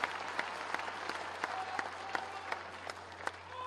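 Audience applause welcomes a guest at a civic felicitation ceremony in Birla Auditorium, Jaipur, moderately loud clapping with distinct sharp claps standing out over a low hum.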